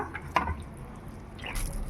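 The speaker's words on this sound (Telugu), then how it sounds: "ఇలా వాటర్లో డిప్ చేసి ఎక్స్ట్రా వాటర్ అంతా తీసేయాలన్నమాట" Bread dipped in water and squeezed out while making cabbage kofta curry gives a few faint, close wet drips and a soft squish, quiet and brief against near silence.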